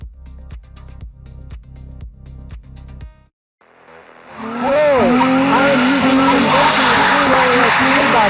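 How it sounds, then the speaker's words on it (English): A loud race car screams with skidding tire squeal, heard through conventional true wireless earbuds during a call-quality test, arriving after a few seconds of choppy, voice-like sound and a short silence. "The car is really loud and I am enjoying it"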